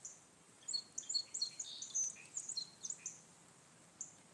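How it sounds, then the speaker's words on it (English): A flock of about twenty birds in a tree chirps and tweets with many quick, high calls in irregular bursts, heard from a moderate distance against quiet background noise. "there's about 20 birds in that tree over there"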